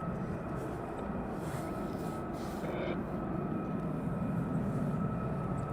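F-15 and F-35 jets taxiing at RAF Lakenheath at night, a steady distant engine roar and whine with a constant tonal hum, no voices.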